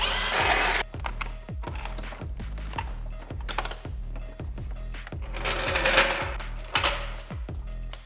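Bolts come off the steering rack of a crashed Toyota GR Supra, heard as rapid, rattling mechanical bursts from a power tool, repeating in quick clusters with clicks and metallic knocks between them.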